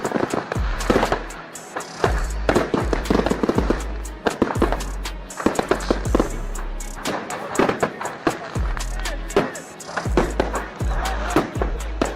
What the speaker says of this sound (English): Tons of fireworks just ignited the night, giving us a highly epic visual.